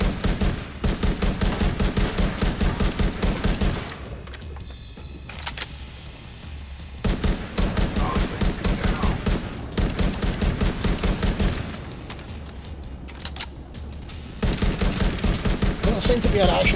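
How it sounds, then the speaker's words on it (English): Enemy gunfire in The Division 2 comes as repeated sustained automatic bursts, loud and near, separated by brief lulls with quieter background noise between them. "Oh, he's shooting now."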